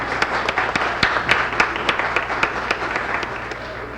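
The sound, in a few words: studio audience applauding on cue from applause sign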